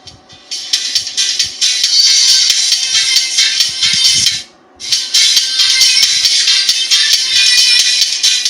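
Bright, thin, bass-less music plays steadily through an audio preamp with separate subwoofer output, treble only, cutting out briefly midway before resuming at the same level.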